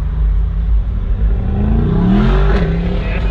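A Mercedes-AMG SL 55 roadster with a 5.5-liter V8 drives along with a loud, steady engine rumble that rises slightly in pitch as it pulls, heard close and continuous.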